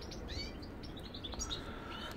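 A young goldfinch sings a run of bright, rapid chirps and twittering notes, fairly close and clear over a steady background hiss.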